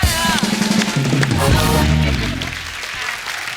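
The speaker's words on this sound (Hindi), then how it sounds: "एक बार पंगा की पूरी टीम के लिए जोरदार तालियां हो जाए" Studio audience on a Hindi comedy talk show applauds the Panga film team, a loud burst of clapping mixed with a voice and music that fades toward the end.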